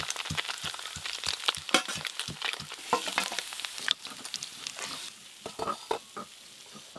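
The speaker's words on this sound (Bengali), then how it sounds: "এবার যে তারই মাছগুলো আছে এগুলো একবারেই ভেজে নেবো একসঙ্গে।" Small fish fry in a pan, a crackling sizzle broken by sharp spatula taps and stirring clatter, close and fairly busy, easing toward a quieter hiss near the end, no talking.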